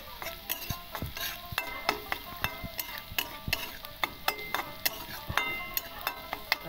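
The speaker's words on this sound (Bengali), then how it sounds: "তাহলে ভালো করে নেড়ে দিই।" A spoon stirs carrots frying in a pan with turmeric and chili powder, giving repeated close scraping clinks over a steady low sizzle, with no talking.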